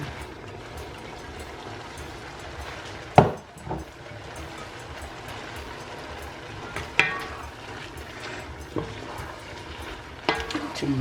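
Spaghetti stirred into a pan of frying spicy prawns: a steady low sizzle runs throughout, broken by a few sharp utensil knocks and scrapes against the pan, near and fairly quiet.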